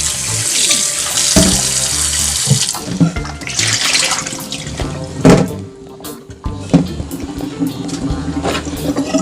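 Tap water runs steadily into a sink while coconut is washed, a close, continuous splashing stream with clattering handling sounds and brief interruptions.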